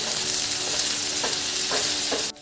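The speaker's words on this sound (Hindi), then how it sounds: "अब इन सारी चीज़ों को अच्छे से मिक्स कर लेते" Chopped coriander and chaat masala are stirred into a mixture in a pan, giving a steady sizzling, frying hiss with a few soft scraping strokes of the spoon.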